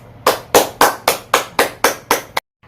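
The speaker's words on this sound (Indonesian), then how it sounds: "Yuk kita melambai, tepuk tangan, tepuk tangan." A class of third-grade pupils clapping in unison, eight sharp, evenly spaced claps close by and loud, ending abruptly into silence.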